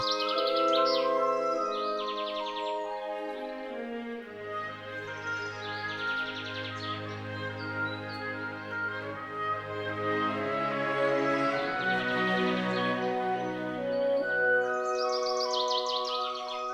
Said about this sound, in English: These wonderful creatures bring a sense of wilderness to our urban environments, filling them with song.